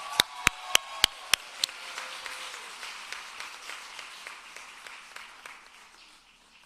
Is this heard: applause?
yes